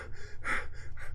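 A person imitates a swimmer panting in water, giving a few quick, breathy gasps close to the microphone in a rapid rhythm.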